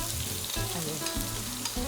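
Cinnamon stick and star anise fry in hot oil with a steady, close sizzle and crackle that runs unbroken throughout, with some faint stirring underneath.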